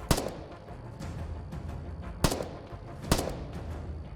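A G3 battle rifle fires at long range, about 400 metres, in the video game Afterconflict: three sharp, loud single shots with uneven gaps between them, the last two closer together, over a low steady ambient hum.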